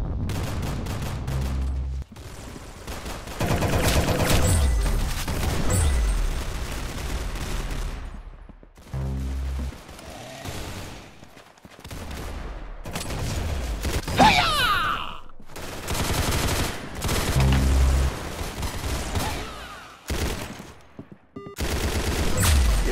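Rapid bursts of gunfire from the Roblox-style shooter Arsenal ring out repeatedly, loud and dense, with short gaps between volleys and no speech over them.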